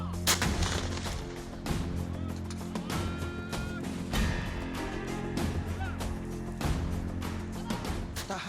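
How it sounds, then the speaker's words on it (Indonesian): Vampire and Grad multiple rocket launchers fire during a marine combat exercise. Loud booming launches and sharp blasts repeat in dense, overlapping rapid succession, with a constant roar underneath. "Roket jenis vampir dan grand ini mampu menjangkau sasaran hingga 20 km"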